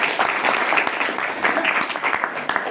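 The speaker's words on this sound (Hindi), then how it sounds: "एक जोरदार ताली मारिए" Crowd of audience members clapping steadily at a business seminar in India, a dense wash of hand claps lasting the whole stretch, loud and close with no voices over it.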